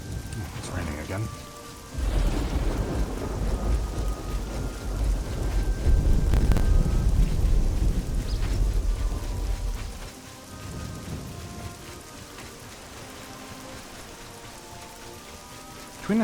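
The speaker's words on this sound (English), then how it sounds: "It's raining again." Steady rain pours down in a video game, with a low thunder rumble building in the middle and then easing off into lighter rainfall with scattered drips.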